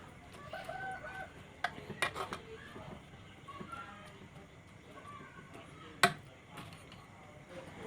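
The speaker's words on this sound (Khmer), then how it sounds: "អ្នកទាំងអស់គ្នាបានលើមាន់ល្ងាវនៅក្នុងវីដេអូហ្នឹង" A rooster crows faintly in the distance at dawn, heard through the low background of a home kitchen where vegetable soup is being cooked, with a few sharp clatters and knocks nearby.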